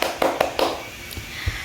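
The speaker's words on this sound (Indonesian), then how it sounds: "Tepuk tangan dulu." A small audience clapping, a few sharp, close hand claps in a quick loose rhythm that fade into scattered taps within about a second.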